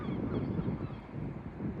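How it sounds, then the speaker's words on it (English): Geese honking near the water, a dense cluster of calls in the middle distance against light wind, with no one talking. "Plenty of birds just flown away because they saw me coming."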